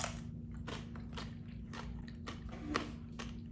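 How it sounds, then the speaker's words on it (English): Crunchy tortilla chips piled with shrimp burrito bowl toppings are bitten and chewed up close, a run of crisp crackling crunches repeating every half second or so over a low steady hum. "That crunch is the sound you want to hear with these chips."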